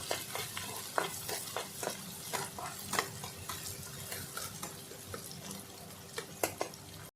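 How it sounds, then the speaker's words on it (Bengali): Chopped onions with a bay leaf fry in a pan, giving a steady soft sizzle with repeated scraping stirs and light clinks of the spoon throughout, close and fairly quiet. "পেঁয়াজটা একটু ভালো করে লাল করে ভেজে নেব"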